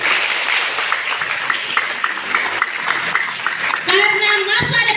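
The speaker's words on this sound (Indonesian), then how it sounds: "Tepuk tangan dulu." Students at a Friday worship service in a vocational high school in Kupang clap in a steady crowd applause, with a voice breaking in over it toward the end.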